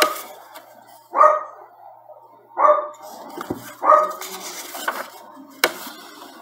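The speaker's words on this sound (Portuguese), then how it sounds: "é a minha cadelinha que está latindo na janela" A small female dog barks at a window indoors: three sharp, separate barks at a steady spacing, then a fainter fourth, with light clatter between.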